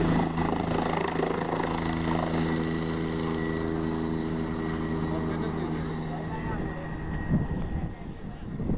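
A helicopter flies near the Kedarnath helipad among snow-capped mountains, its loud steady rotor and engine drone dominating throughout and easing slightly toward the end, with some voices faintly underneath.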